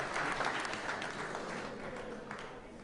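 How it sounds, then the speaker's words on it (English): An audience at a startup conference event claps in a loud burst that gradually thins and fades over a few seconds. "Yes, that is worth clapping about."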